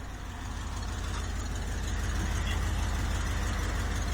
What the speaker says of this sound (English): My exhaust has started to leak, and I actually like how it sounds.